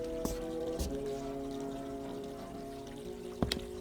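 A running-water sound effect in a radio drama: a faint, steady pour or trickle sits under a low hum, with a few sharp clicks near the start and end.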